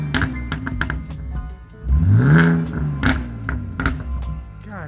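A BMW E46 fitted with cheap $95 aftermarket headers is revved once, a loud close bark rising and falling over about two seconds, with some clunks and faint voices before and after.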